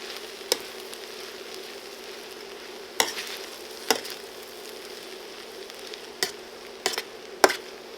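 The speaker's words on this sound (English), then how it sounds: "This is just to finish stirring everything in." Vegetarian egg noodles fry in a pan while being stirred, a steady low sizzle broken by a handful of sharp utensil knocks and scrapes against the pan.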